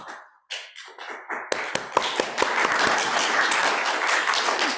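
A church congregation breaks into clapping during a Sunday service, starting with a few scattered sharp claps that quickly swell into sustained, dense applause from the whole room.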